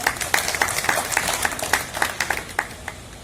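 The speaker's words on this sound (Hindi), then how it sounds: "ताली बजाकर।" Audience clapping at a birthday gathering with a Union minister, a modest round of distinct, irregular claps from a small crowd, moderately close with little else underneath.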